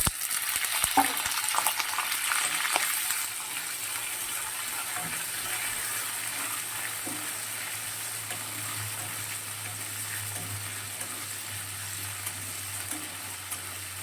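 Potatoes fry in oil in a pan, a steady soft sizzle close by, with a few scraping stirs and clinks early on before the frying settles into an even hiss.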